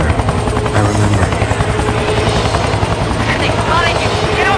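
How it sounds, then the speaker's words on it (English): A helicopter in the 2003 video game XIII thrums loud and steady with continuous rotor chop and turbine whine, filling the scene at close range, with voices faintly mixed in. "The helicopter."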